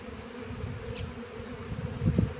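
Georgian honeybees at a hive produce a steady, close buzzing drone throughout, with a few soft knocks toward the end and no voices.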